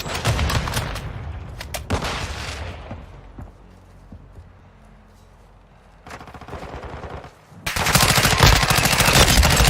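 In a video-game firefight, loud rapid automatic gunfire bursts in close, thins to scattered shots and a lull, then resumes in dense sustained volleys at the end.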